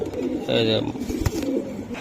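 A racing pigeon gives a soft, low coo up close at a pigeon sale, heard over a murmur of background voices and bustle.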